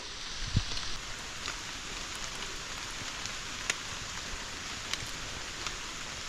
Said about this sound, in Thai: ฝนตกลัดทางแล้ว